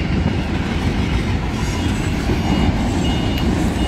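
A long freight train rolls past on rails near Sweetwater, Tennessee, a steady, loud, dense rumble with continuous rolling wheel noise and faint clatter, unchanging throughout without any voices.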